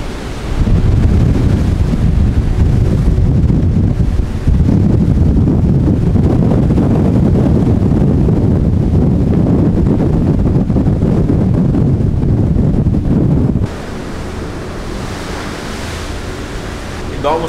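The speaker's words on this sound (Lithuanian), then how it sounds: "Bet jo vėjas rimtas." Strong wind roars against the microphone aboard a ferry crossing Cook Strait from the North Island to the South Island. It is a loud, continuous buffeting rush that eases slightly near the end.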